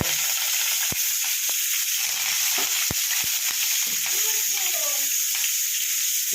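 Whole coriander and fennel seeds sizzle in hot oil for a tempering in a village kitchen, a steady close frying hiss with a few sharp clicks and stirring knocks.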